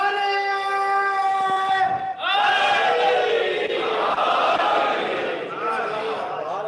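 A religious gathering's crowd answers a speaker's call with a loud, sustained collective chant of a slogan. It follows a single held, tonal voice and swells as many voices join together, near and full.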